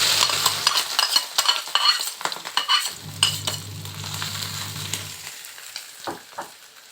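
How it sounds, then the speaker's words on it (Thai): Small freshwater shrimp are stir-fried in a pan with a little oil, sizzling under a burst of quick scraping stirs, then a quieter steady fry with occasional knocks of the utensil. "แล้วก็ทำการคั่วครับผม"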